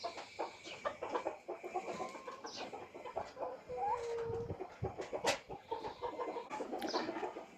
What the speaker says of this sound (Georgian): ესე იგი 5 მამალია და 25 დედალი და ვერ გაიყვეს.